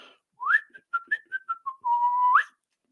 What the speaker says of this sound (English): Welcome to the weird whistling experiment.